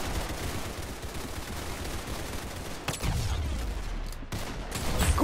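Gunfire in the video game Arsenal, a dense, steady spray of shots with a few sharper bursts near the middle and end, loud and close throughout with no voices.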